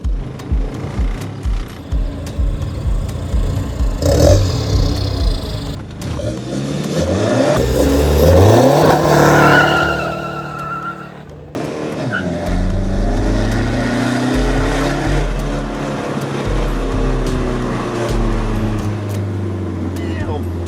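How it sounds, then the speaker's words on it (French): A boosted family car on Réunion revs up and launches from a standstill, engine roaring through a sustained spin of the tyres before shifting, with people talking near the start. "Terrible le départ arrêté. Ça patine à mort."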